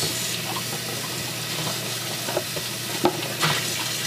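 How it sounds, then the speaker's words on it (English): Food is rinsed under a running tap, a steady close rush of water with a few small clattering bumps near the end. "And Zoe, once you're done rinsing it"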